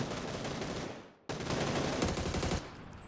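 Rapid bursts of automatic gunfire in the battle royale game PUBG on the Taego map, loud and continuous with a brief drop around the middle, then resuming as sustained fire.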